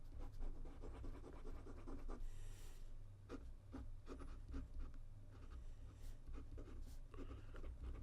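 Lamy 2000 fountain pen with an OB nib scratching across paper while writing, a steady close rasp of strokes with small pauses between them, heard alone.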